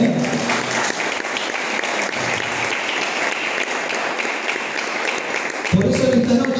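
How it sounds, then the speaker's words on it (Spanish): A church congregation claps together in sustained, loud, dense applause that fills most of the stretch, then a voice briefly cuts in near the end as the clapping carries on. "¿Cuántos le dan un aplauso al Señor?"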